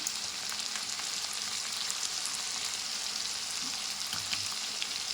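Turmeric powder hitting hot oil in a pan while cooking chicken curry, giving a steady, close, continuous sizzle and frying crackle with no talking.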